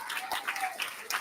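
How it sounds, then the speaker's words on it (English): A county fair livestock judging crowd gives a quiet, distant round of applause for the exhibitors, with scattered claps and a voice faintly underneath. "one more big round of applause for these exhibitors"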